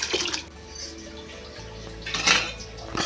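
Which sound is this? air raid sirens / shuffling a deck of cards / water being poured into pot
water being poured into pot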